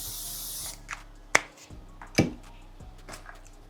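Setting spray misted from a makeup bottle: a loud opening hiss that stops abruptly, then a few sharp pump clicks and short puffs, close and alone with no talk.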